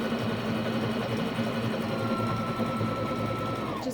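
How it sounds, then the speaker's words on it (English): A sewing machine stitches elastic onto a wool diaper cover, running steadily at an even speed with a dense mechanical whir and rapid needle chatter, then slowing to a stop at the end. "I just put it right under the presser foot and then stitch over it and back stitch"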